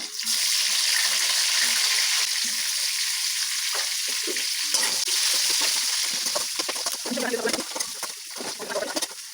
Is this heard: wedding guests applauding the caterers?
no